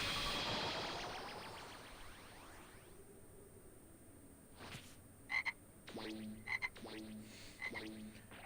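A frog croaks in Dragon Ball Xenoverse 2, a few short throaty croaks in quick clusters after a fading noisy wash, faint under soft game ambience.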